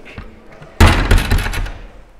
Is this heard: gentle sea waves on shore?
no